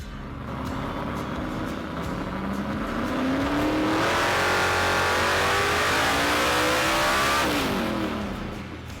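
A tuned car engine on a dyno winds up through a long rising pull, revving hard and loud for several seconds with climbing pitch before dropping back off, steady and close with no speech.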